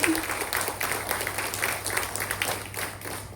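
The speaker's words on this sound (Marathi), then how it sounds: "एकदा जोरदार टाळ्या त्यांच्यासाठी" An audience at a lecture event bursts into steady, dense applause that fills the room from start to finish, loud and close.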